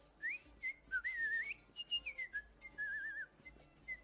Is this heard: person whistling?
yes